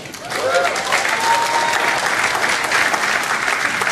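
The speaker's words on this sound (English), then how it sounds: "you can applaud if you want" Steady applause from an audience at a social media marketing talk, dense clapping filling the whole stretch at an even level with a faint voice briefly audible near the start.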